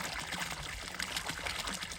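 Water flows steadily in a rice field, a continuous close trickling and splashing wash with no break across the short stretch.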